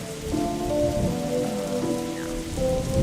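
Steady rain pattering on the roof and body of a car in The Darkside Detective video game, a continuous close wash of drops with soft tonal game music running underneath.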